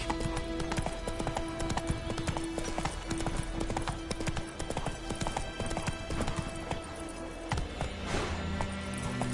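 Roach the horse's hooves galloping in The Witcher III: The Wild Hunt, a rapid, continuous clip-clop over rough ground, loud and close, ending in a faint snort, with brief bits of game audio mixed in.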